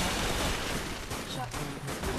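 Guns firing in the zombie shooter game Dead Nation, a dense, continuous barrage of loud shots and blasts mixed with game noise, with voices talking over the top.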